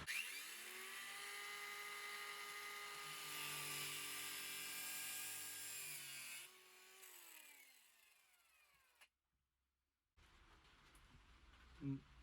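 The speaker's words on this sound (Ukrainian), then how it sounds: "це ми цей кінчик зараз відріжемо, але відріжемо болгаркою" A high, harsh whine of an angle grinder cutting the end off a model tank gun mantlet runs steadily, then spins down and stops, followed by a pause and quieter clattering noise.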